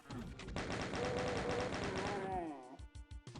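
Rapid automatic gunfire from chaingunner enemies in Doom II, a dense stream of quick shots lasting over two seconds, followed by a few separate thuds and blasts as it breaks off.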